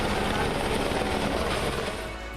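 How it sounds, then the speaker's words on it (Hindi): A helicopter showers flower petals over the Badrinath temple during a Hindu pilgrimage festival, its rotor drone loud and continuous overhead, fading slightly at the end, with a voice talking over it. "हेलीकॉप्टर से पुष्प वर्षा"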